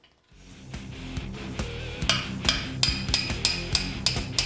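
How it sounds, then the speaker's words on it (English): Repeated metal hammer strikes on an aluminum part being fitted to a Honda 400EX quad with a powder-coated frame, a steady series of sharp, ringing blows close by, alone with no talk. "You got to use this hammer."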